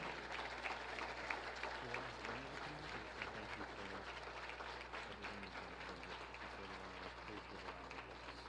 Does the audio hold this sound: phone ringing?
no